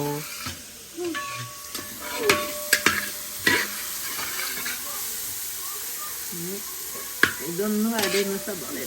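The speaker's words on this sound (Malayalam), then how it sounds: "എന്നിട്ട് അതിലേക്ക് പച്ചമുളകും കറിവേപ്പിലയും കൂടി നുറുക്കിയിട്ടിട്ടുണ്ടായത് അതിന് ഇട്ട് ഇളക്കണം." Green chillies and curry leaves stirred in a frying pan while cooking for a family wedding, giving a soft sizzle broken by scraping clatters of the spoon, with people talking nearby.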